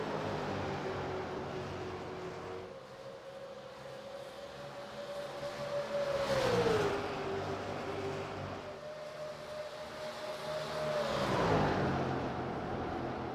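Race cars battle side by side on the Kentucky track, their engine drones rising and falling in pitch as they pass, loud and sustained, with one strong sweep followed by another.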